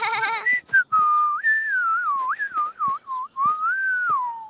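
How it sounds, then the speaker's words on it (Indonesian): A clear, melodic whistle with sliding pitches, played as a series of short phrases with brief breaks, close and fairly loud. "bisa bersiul tanpa kotak jus"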